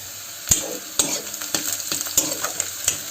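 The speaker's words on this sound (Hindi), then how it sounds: "अब थोड़ा एक अच्छा से भुंजात ले हमन हा इला छोड़ देबो संगवारी हो" Snack frying and being stirred in a pan until golden brown, with a steady oil sizzle broken by repeated sharp scrapes of the stirring utensil about every half second.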